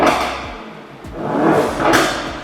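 A revving 2017 Mercedes-AMG E 63 S 4Matic+ twin-turbo V8 exhaust with a few sharp pops and bangs, including two distinct cracks among rumbling bursts, close and loud.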